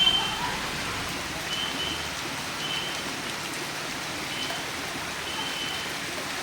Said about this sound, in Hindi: आवाज़ बारिश की आ रही है बेहतरीन।